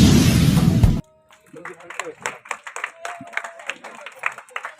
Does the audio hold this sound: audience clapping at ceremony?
yes